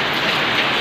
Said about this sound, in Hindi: पर यहाँ देखा तो बारिश होती मस्त